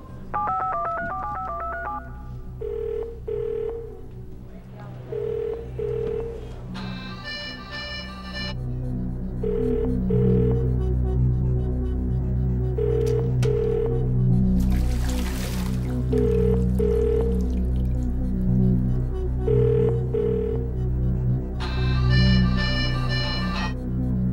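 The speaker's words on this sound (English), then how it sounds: "I'd like to phone a friend." Telephone keypad tones beep in short bursts, several quick sequences of dialing with steady background music underneath.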